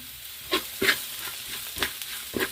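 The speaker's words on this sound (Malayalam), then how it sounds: "ഇതെല്ലാം കൂടി ഇട്ട് കൊടുത്ത് നമുക്ക് നന്നായിട്ടൊന്ന് ഇളക്കാം" Chili, coriander and pepper powder with garam masala and meat masala being stirred in a pan for a beef curry, with a steady low sizzle broken by four or five distinct scraping strokes of the spoon, close and without speech.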